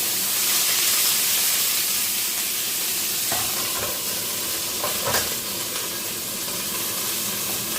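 Pork chops sizzle steadily in a pan after being flipped, a loud continuous hiss with a few scraping and stirring knocks partway through, no talk.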